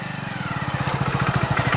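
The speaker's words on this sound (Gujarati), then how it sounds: "આ પહેલી વાર બાઈક તારું જબ્બર છે. હા ભાઈ જબ્બર બાઈક છે." A large motorcycle engine runs close by with a fast, even, throbbing beat that grows slightly louder and rougher as it revs. No one speaks.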